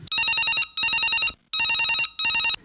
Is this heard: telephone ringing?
yes